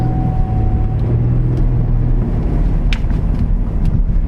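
A Buick Enclave rolling under its own power while the parking brake is tested, giving a steady low engine and road rumble that holds for several seconds, with a few faint brief squeaks near the end.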